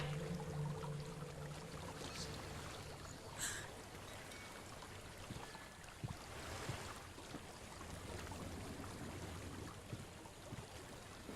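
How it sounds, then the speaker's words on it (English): Steady rushing water from a waterfall in the video game Hellblade: Senua's Sacrifice, a continuous broadband roar with a brief brighter splash and low hum underneath, no speech. "There's a waterfall."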